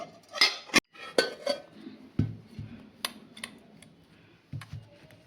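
Caramel custard being turned out onto a plate in a home kitchen, with sharp clinks and taps of a dish and utensils, several irregular knocks spaced across a quiet background.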